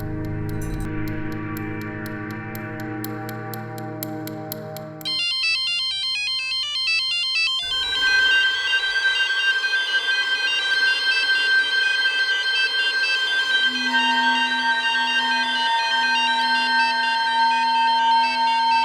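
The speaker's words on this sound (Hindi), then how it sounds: "फ़ोन उठाइए" An electronic telephone ringtone plays continuously for almost twenty seconds in a tense indoor scene. Its repeating synthetic tones shift pattern twice and hold at a steady, fairly loud level, with no talking.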